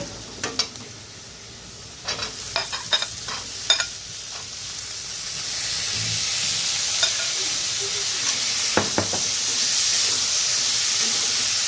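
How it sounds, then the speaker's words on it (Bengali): Malabar spinach seeds tip into a hot pan for a dish with dried loitta fish, a few stirring scrapes and clinks first, then a steady broadband sizzle rising and holding, with occasional sharp utensil taps. "তো এখন দিয়ে দেব পুঁই বিচি।"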